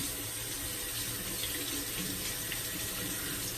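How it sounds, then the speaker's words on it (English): Warm water runs steadily from a tap into a mug, a continuous close splashing stream with no talk over it. "let me fill up my mug here with some warm water"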